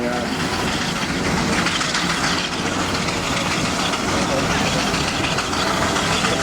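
A Fowler steam traction engine chugs and rumbles loudly and continuously, with a dense mechanical roar filling the whole stretch.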